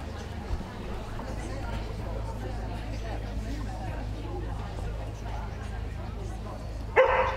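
Spanish Water Dog barking and yipping amid the steady crowd hubbub and babble of a championship dog show hall, with an announcer's voice over the PA.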